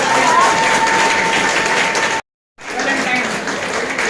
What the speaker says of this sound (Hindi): आप लोग ताली बजा करो, जब तक नहीं कटेगा